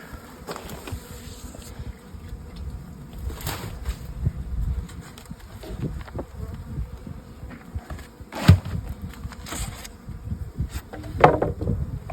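Honey bees being moved into a hive fill the air with a dense, steady buzz of many insects up close, broken by a couple of soft knocks and thumps.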